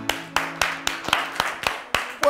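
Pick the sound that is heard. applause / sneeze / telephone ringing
applause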